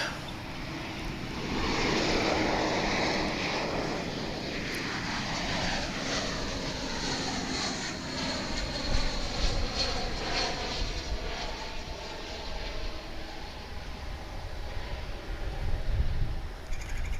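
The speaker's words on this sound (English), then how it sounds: "That's an A321 coming in from Austin." Airbus A321 airliner landing at Dallas/Fort Worth airport, a broad jet engine roar with a slowly shifting whine as it passes, moderately loud and fairly distant throughout.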